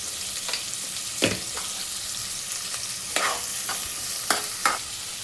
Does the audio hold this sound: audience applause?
no